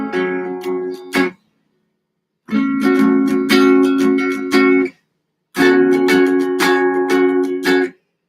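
A guitar is strummed on its middle four strings in three separate bursts. Each burst lasts a couple of seconds and is followed by a short silence, and the playing is close and clear with no voice over it.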